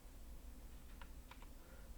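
A computer keyboard is used during Photoshop work, with a few faint key clicks, one single and then a quick pair, over steady background hiss.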